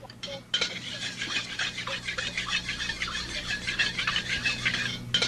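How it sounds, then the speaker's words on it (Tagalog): Fermented black beans with ginger, onions and garlic sautéing in oil in a hot pan, a steady close sizzle with metal utensil scraping and stirring throughout. "Ilagay nyo na yung tausi, kasama yung ginger, onions at garlic."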